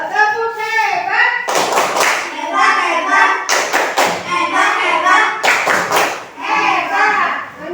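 A class of schoolchildren does the "tepuk hebat" clapping routine, bursts of rhythmic hand claps in several loud sections between chanted voices, close and lively.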